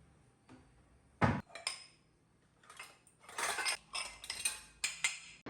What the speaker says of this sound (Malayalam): അപ്പോൾ ഇന്നലെ കഴുകിയ പാത്രങ്ങളൊക്കെ എല്ലാം ഡ്രൈ ആയിട്ടുണ്ട്. അപ്പോൾ അതെല്ലാം ഞാൻ ഒന്ന് യഥാസ്ഥാനത്തേക്ക് എടുത്ത് വെക്കുകയാണ്